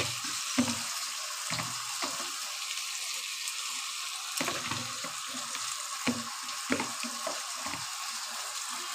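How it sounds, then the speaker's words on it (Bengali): Prawns and cabbage stir-fried together in a pan, giving a continuous sizzle broken by repeated spatula scrapes and knocks at an uneven pace, close and fairly loud. "চিংড়ি মাছ দিয়েও আমি ভালো করে কষিয়ে নিচ্ছি।"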